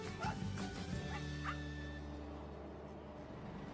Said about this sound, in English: First thing I saw when I get on the barge is a dog. And I guess he's feeling territorial because I'm on his boat.